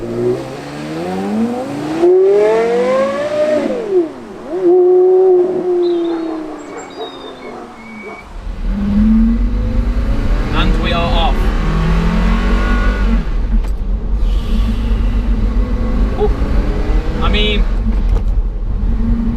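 Porsche Carrera GT pulling away from a standstill with no throttle, then accelerating hard: a rising engine note climbs through gear changes, falls back, and swells again into a loud, steady roar close by.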